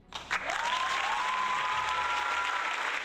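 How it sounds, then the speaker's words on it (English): A short canned applause sound effect plays in a podcast, a crowd's clapping swelling in quickly and holding steady with a faint whistle above it for a few seconds. "I hit the applause for you"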